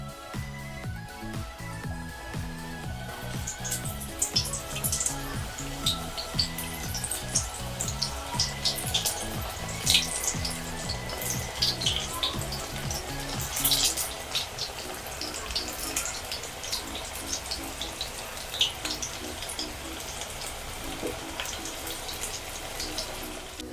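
Spinach palak pakoras bubble and crackle in hot oil over medium gas, a continuous sputtering fry with scattered louder pops and faint background music.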